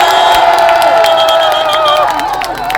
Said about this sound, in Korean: 격려 박수 한번 부탁드립니다.